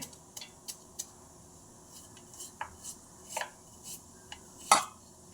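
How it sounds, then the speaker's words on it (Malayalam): Banana stem is sliced with a knife on a board, giving a handful of sparse, crisp chops and taps spaced irregularly, close and fairly quiet against a still room. "നമ്മളിവിടെ വാഴത്തണ്ടൂടെ അരിഞ്ഞെടുത്തിട്ടുണ്ട്"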